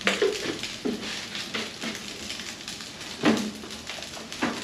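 Rice frying in a pan at a home in Vietnam, with a soft continuous sizzle under occasional scraping and stirring clatter from a utensil against the pan.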